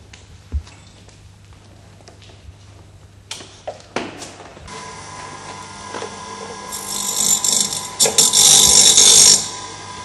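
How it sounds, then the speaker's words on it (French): Hand filing on a freshly cut piece to smooth a rough finish: scattered light scrapes and knocks at first, then a stretch of steady, brighter rasping strokes close by toward the end, with no talk. "Il faut un peu limer."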